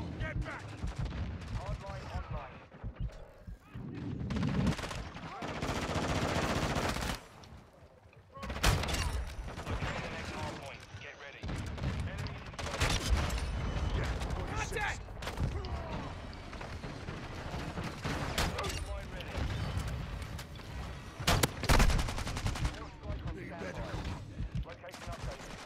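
In Call of Duty, a shotgun fires repeatedly in sharp loud blasts spaced irregularly through a chaotic firefight, with other gunfire and talking mixed in.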